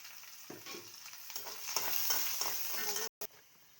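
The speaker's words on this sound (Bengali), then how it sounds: "পেঁয়াজটা লাল লাল করে ভাজি করে নেব।" Onions frying with cumin in a pan for an egg and potato curry, a steady close sizzle with a few clacks of a spatula stirring and a brief cutout near the end.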